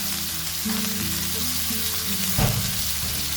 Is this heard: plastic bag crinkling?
no